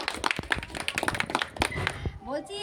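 A yoga class breaks into a round of group clapping for a student, the claps coming as dense scattered hits mixed with people talking over them.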